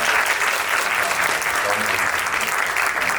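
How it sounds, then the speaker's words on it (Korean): A film screening audience at a director's talk breaks into dense, sustained applause that fills the room evenly from start to finish. "장항준 감독님께 큰 박수 부탁드리겠습니다"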